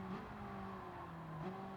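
A Ferrari race car engine in Gran Turismo 7, driven on a wet track, drones steadily at high revs in a faint, even tone, with a brief pitch shift near the end suggesting a gear change.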